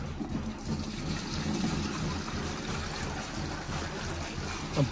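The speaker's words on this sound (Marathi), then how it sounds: "पाण्याचा पंप भरायचा इथं" Water is poured into a pesticide spray pump tank, a soft, close trickling and gurgling fill that runs continuously at low volume.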